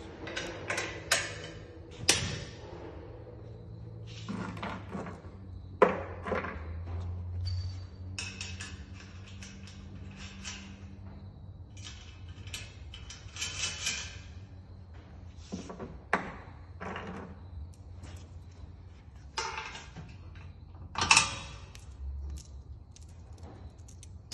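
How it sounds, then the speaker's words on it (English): Carriage bolts, 3/8 by 3/4 inch, being fitted on a Ramp Rack SPORT truck ramp rack: intermittent metallic clicks, taps and rattles of hardware at close range, separated by quiet stretches, no speech. "I'll go ahead and install the 3/8 by 3/4 inch long carriage bolts"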